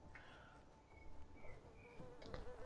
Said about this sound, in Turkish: O sinekler her tarafta düşüyor.